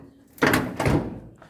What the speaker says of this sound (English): This door doesn't close properly yet.